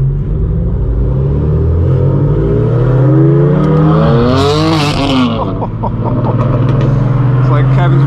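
A straight-piped BMW M4 F82 revs loudly up close, its deep exhaust roar sweeping up in pitch over a few seconds and then settling back to a heavy rumble, with a sharp crackle at the peak.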